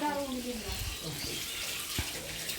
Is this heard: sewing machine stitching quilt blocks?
no